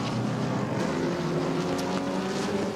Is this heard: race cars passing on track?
yes